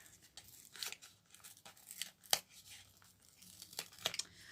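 Packaging glued shut around heart-shaped lip gloss being torn open, with several sharp ripping and crinkling bursts spread across a quiet stretch, close and fairly soft.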